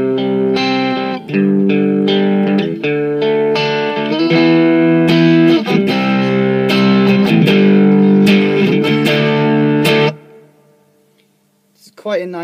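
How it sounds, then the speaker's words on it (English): An electric guitar plays sustained chords through an OS-2 overdrive/distortion pedal, loud and gritty with a thick harmonic tone, then rings out and fades. "It's quite a nice mix between overdrive and distortion"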